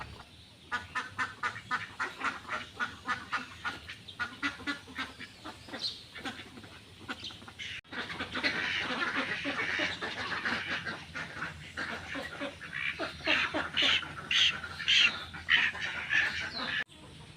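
Domestic ducks quacking repeatedly in a noisy chorus, close by, getting busier and denser partway through, with no talking.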